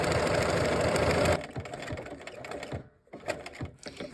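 A sewing machine works a buttonhole stitch around a burgundy appliqué. It starts with a dense, loud mechanical whir, then slows into a series of close, rhythmic needle clacks with short pauses.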